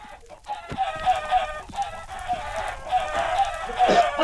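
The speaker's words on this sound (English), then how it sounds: "just a chicken spawner" Chickens at a chicken spawner in a video game cluck steadily in a dense, busy flock, with overlapping calls continuing throughout at a moderate, close level.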